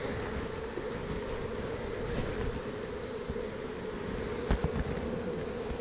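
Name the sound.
honey bees on hive frames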